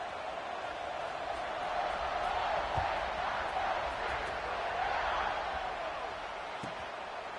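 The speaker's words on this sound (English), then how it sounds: "this crowd is buzzing after that last score" A college football stadium crowd during a Texas game buzzes steadily after a score, a broad continuous roar that swells slightly midway, heard from a distance with a commentator talking over it.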